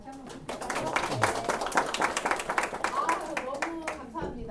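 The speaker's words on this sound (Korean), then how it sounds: "박수 다시 한번 부탁드릴까요?" Audience applause at a high school admissions strategy seminar, a dense burst of hand clapping from a room of people with voices mixed in underneath.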